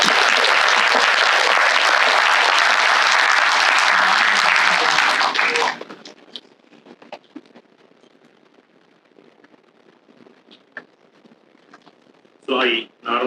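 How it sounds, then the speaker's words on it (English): An audience at a science talk applauds after a Tamil poem recital. The loud, dense clapping lasts about six seconds, then the room falls quiet with faint rustles and a brief voice near the end. "I think we can give her a round of applause."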